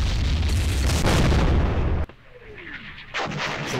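Mortar fire in a wargame set during an Israeli Defense Forces raid into Jordan in 1968 gives dense, loud rumbling booms that drop off suddenly. A quieter gap with a faint whistle follows, then the blasts return.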